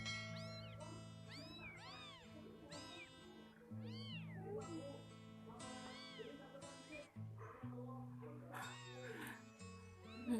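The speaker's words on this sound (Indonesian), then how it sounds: "Ini kucingnya bulu 3 guys" A pregnant domestic cat meowing repeatedly up close, a string of rising and falling plaintive calls with short gaps, over a steady low background hum.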